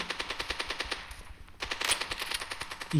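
Rapid bursts of automatic gunfire in the mobile game Standoff 2, rhythmic and sharp, with a brief pause midway and a few louder shots later, loud and close.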